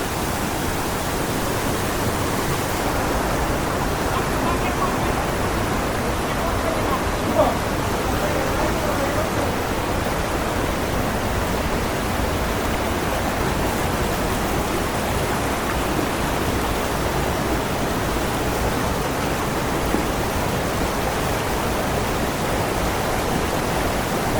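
Signal Falls in Mariveles, Bataan, pours in a steady, dense roar of falling water that fills the whole stretch without pause, loud and close, with a voice speaking now and then beneath the rush.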